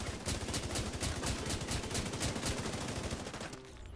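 Rapid, sustained automatic gunfire from a gun hip-fired in a video game, loud and continuous for several seconds before cutting off abruptly.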